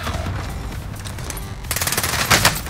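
MP40 submachine gun firing in Call of Duty Warzone on Rebirth Island, a rapid automatic burst that swells louder toward the end, set over a steady low game-ambience rumble.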